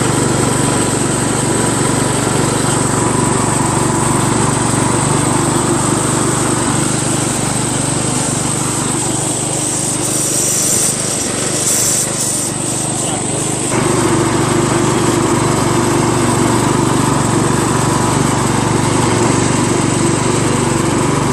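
A Craftsman LT1000 lawn tractor engine runs steadily while being driven, a loud, constant buzzing drone close by for the whole stretch, with a person talking at times over it.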